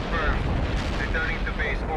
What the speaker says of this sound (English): Incoming artillery again,